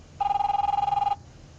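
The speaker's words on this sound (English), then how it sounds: "are you guys gonna answer the phone?" A telephone rings in The Wolf Among Us, one steady trilling burst of about a second with a bright electronic tone, clear and close over a low background murmur, then it cuts off.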